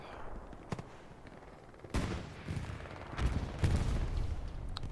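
Rocket fire in the World War II shooter Hell Let Loose during a competitive league match: a few heavy booming blasts land at irregular intervals, loud and close, over a steady low battlefield rumble.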